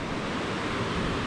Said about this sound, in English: little waterfall going into the pool